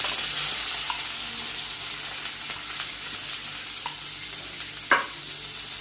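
Onion hits an already hot kadhai with a continuous close sizzle, broken by a few light clinks of a stirring utensil and one sharper knock near the end.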